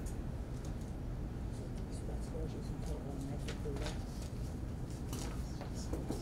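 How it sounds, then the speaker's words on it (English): Light taps entering a password on an ES&S voting tabulation unit, a scattered series of faint clicks over a steady hiss of room noise. "so I will just type in the password"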